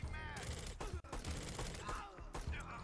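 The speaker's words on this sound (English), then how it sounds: "I need you to fire, my guy" Gunfire in the tactical shooter Door Kickers 2 during a night raid: rapid overlapping shots and bursts crackle loudly through the whole stretch, mixed with game voices and other action sounds.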